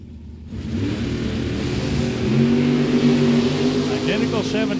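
A 1963 Corvette and a Camaro rev their engines at the line of a drag strip, a loud, sustained mid-pitched roar that swells and holds steady, with an announcer talking over it.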